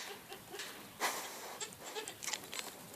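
Goats on a farm give a few faint, scattered bleats amid quiet rustling, with no talking heard.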